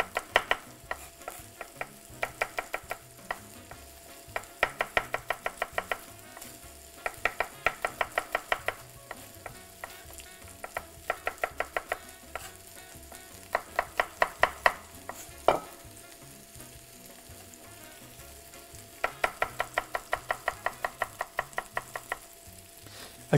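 Vegetables stir-frying in a pan for Chinese-style noodles, soft sizzling under bursts of rapid rhythmic scraping and knocking from a utensil against the pan, repeated in groups throughout.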